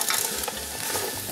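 Garlic, onions and peppers sautéing in a pan, a steady sizzle heard up close with soft scraping as the pieces are moved around.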